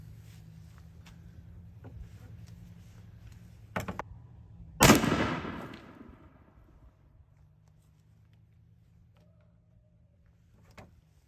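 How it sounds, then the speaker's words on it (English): One loud gunshot fired at a milk jug target outdoors, a sharp blast with a long rolling echo, preceded by faint handling clicks and a low background hum. "I'll shoot right here from behind the camera."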